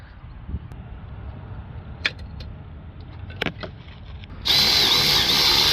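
A power tool fits NGK glow plugs on a Renault Trafic III 1.6 diesel. Scattered metallic clicks and knocks sit over a low background murmur before a loud, continuous high-pitched whirr starts near the end.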